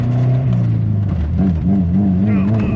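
A Honda S2000 track car with a K-Series engine and loud exhaust revs up and down close by, its engine note rising and falling beneath someone talking.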